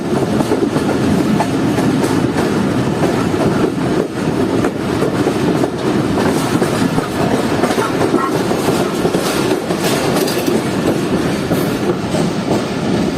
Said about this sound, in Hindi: ट्रेन हमारी जो है वो 12:20 पर अप्रोच बना रही है